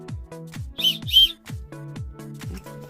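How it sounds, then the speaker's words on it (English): Two short, shrill blasts from a safety whistle on a North Face Fuse Box backpack, close and loud, set against faint background sounds. "it has like a little whistle where you can blow"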